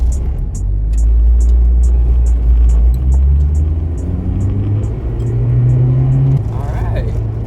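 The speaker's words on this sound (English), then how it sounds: "let's go for a little test drive and come right back" An Acura RSX with a fuel pump problem that has been leaking fuel, heard from inside on a test drive: a low engine drone rising and settling through acceleration and a gear change, with steady road rumble and a regular ticking.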